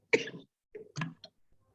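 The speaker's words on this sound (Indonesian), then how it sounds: "Sorry, saya batuk." A person coughs several times in a short burst, one loud harsh cough followed by a few smaller throat-clearing coughs, close to the microphone, with no speech.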